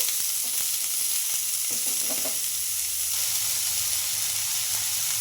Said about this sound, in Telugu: కొంచెం కలర్ చేంజ్ అయ్యే వరకు ఫ్రై చేసుకుంటే చాలు